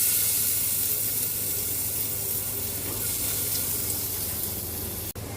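Garlic sizzles steadily in hot cooking oil in a pan while pork menudo is made. The frying is a continuous, fairly loud crackling hiss close by, with a low hum under it and a brief dip near the end.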